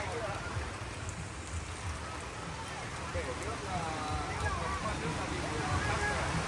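Heavy rain and wind at an outdoor bonsai market in a downpour, a dense steady hiss of rain pattering on surfaces, fairly close, with faint voices and murmuring mixed underneath throughout.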